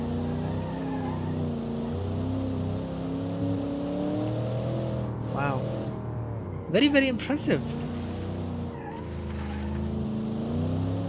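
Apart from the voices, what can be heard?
V8 car engine revving and skidding in a video game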